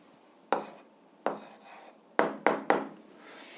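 Pen or chalk strokes as a teacher writes out an answer during an 8th-grade algebra lesson: five short scratchy strokes, each fading quickly, with quiet gaps between and no talking.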